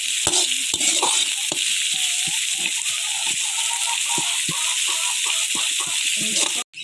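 Crushed garlic goes into a pan of softened onions and sizzles loudly and steadily, with frequent scraping stirs of a utensil against the pan throughout.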